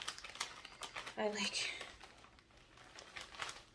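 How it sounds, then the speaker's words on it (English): Plastic packaging crinkling close by in short bursts and rustles, fairly quiet, with soft handling noises around it. "Sorry for the crinkling."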